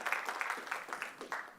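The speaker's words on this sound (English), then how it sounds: "Let's give them all a big round of applause." Audience at a pipeline organization's celebration event gives a brief round of applause, a scattered patter of claps with distinct individual hand strikes, fairly faint and thin as if from a modest crowd.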